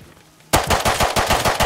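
Rapid automatic gunfire in the survival game Rust, a loud burst of evenly spaced shots that cuts in after a quiet moment and continues without pause.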